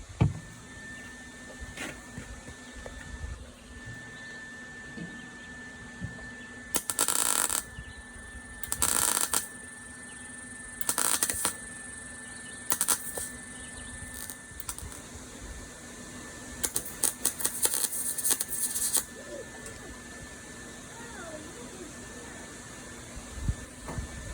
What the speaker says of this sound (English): film me welding this for a couple of minutes